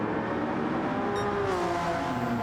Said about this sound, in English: revs are up and away we go